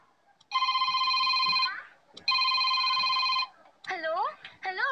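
Telephone rings twice in long, steady electronic bursts with a short gap between them, and then a person starts speaking.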